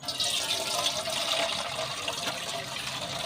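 Water sloshing and pouring steadily as rock fish are washed by hand, a continuous close splashing rush with no break.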